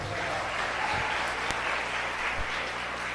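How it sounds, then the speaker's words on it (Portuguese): Evening service congregation at a Brazilian revival church applauding, a steady, dense roll of clapping with faint music underneath and a sharp knock partway through. "Vamos aplaudir o Senhor nessa noite?"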